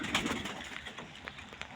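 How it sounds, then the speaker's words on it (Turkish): Pigeons coo softly nearby, with a brief flutter of wings at the start and low murmuring calls throughout. "Kanat sesleri çok güçlü kuşlar."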